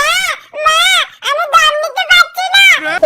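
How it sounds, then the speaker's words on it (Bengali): A baby crying in a series of loud, close, wavering wails separated by short gasping pauses, with the pitch rising and falling from cry to cry. "মৃত্যু মুহূর্তে গর্ভের নিষ্পাপ শিশুটির কান্না শুনুন"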